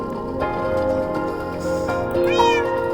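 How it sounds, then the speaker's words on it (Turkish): A cat in the video game Minecraft meows a few times, loud and close, its rising and falling cries standing out over a steady background bed from the game. "Yanıma gel yanıma kedi."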